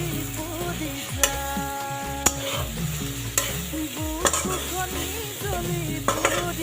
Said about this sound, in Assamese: দি এতিয়া অকণমান সময় কাৰণে ভাজা হোৱালৈকে মই ঢাকনাখন মাৰি থৈ দিওঁ